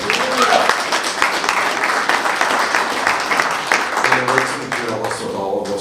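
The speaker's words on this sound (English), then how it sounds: "Let's give him another round of applause." An audience at a club meeting claps for a presenter in a sustained, full round of applause, with voices talking over it as it starts to thin toward the end.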